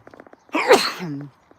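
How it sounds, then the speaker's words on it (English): One loud, close sneeze bursts out after a brief inhale, with no talking. "Excuse me, just need to sneeze then."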